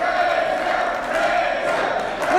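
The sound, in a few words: wrestling crowd cheering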